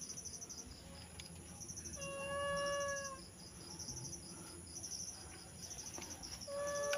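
In a video game, a thin, drawn-out cat-like wail from a creature rises from a quiet background of steady insect-like chirring, then returns briefly near the end.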